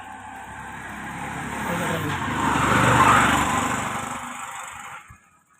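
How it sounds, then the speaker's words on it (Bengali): A motorcycle or CNG auto-rickshaw on a village road passes close by, its engine drone swelling to a peak midway and then fading away into near quiet. "সব জাত গাড়ি যায় মোটরসাইকেল সিএনজি"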